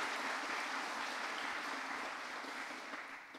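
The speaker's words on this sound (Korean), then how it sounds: "우리 이에서 수고하신 분들에서 우리 박수 한번 드릴까요?" Church congregation applauding during a Sunday worship service, steady broadband clapping from many hands filling the room for a few seconds before tapering slightly at the end, with no voices over it.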